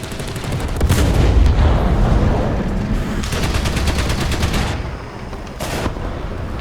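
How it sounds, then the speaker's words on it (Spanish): Tank machine gun fire in War Thunder from an IS-3 heavy tank, loud rapid bursts of shots with dense rattling stretches and short pauses between them, a heavy rumbling battle backdrop underneath. "Por lo menos la ametralladora cumplió su cometido"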